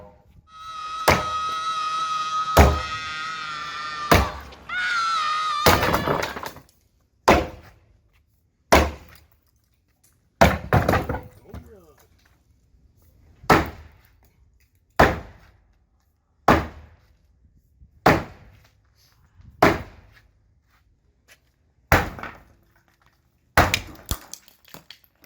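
A 2,200-gallon glass aquarium is smashed apart in a series of loud, sharp crashes and thuds, with shattering glass and ringing at first, then repeated heavy blows spaced a second or two apart.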